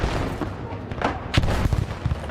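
Bursts of gunfire in the Battlefield 6 video game, several sharp shots spread across the moment with a loud crack near the middle, over a dense background of in-game battle noise.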